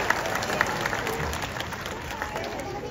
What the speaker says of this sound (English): Let's give him a nice warm round of applause.